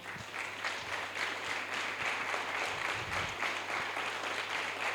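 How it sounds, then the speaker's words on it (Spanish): A church congregation applauds in a dense, continuous wash of clapping at moderate distance, with a low steady hum and occasional thumps beneath. "Denle un aplauso al Señor, por favor."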